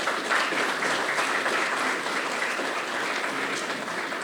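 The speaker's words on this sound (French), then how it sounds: "On applaudit très fort." Loud, steady audience applause at an eloquence tournament as a young candidate is introduced, a thick continuous clatter of many hands from start to finish.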